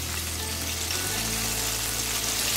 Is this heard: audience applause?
no